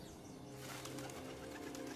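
A homing pigeon flaps and shuffles nearby, with soft wingbeats and faint cooing over a steady low background hum.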